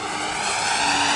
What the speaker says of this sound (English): go out there with this jet flying by